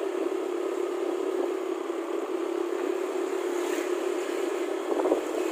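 Steady engine drone and rushing wind from a motorcycle in motion, picked up on a Realme 6 Pro phone, with a constant low hum running unbroken and a brief bump near the end.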